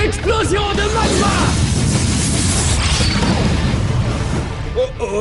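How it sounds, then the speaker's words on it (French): A cartoon magma explosion attack erupts as a heavy, continuous crashing roar that stays loud and dense throughout, with a brief shouted voice near the start. "Explosion de magma!"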